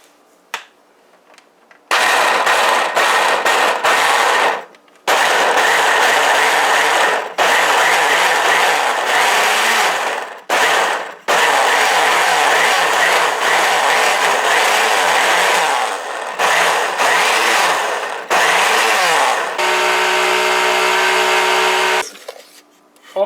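Blender grinding soaked split peas for bara dal, a loud continuous motor whir running in long pulses broken by short stops, alone without talk.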